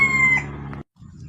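A labuyo junglefowl rooster crows loudly and close by, one strong call that cuts off abruptly, followed by a short pause and some low, softer noise.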